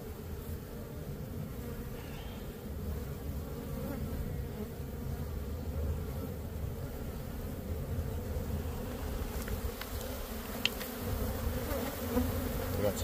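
Dense swarm of honeybees drones steadily around a collapsed comb during a hive rescue, a close, continuous buzzing with no speech.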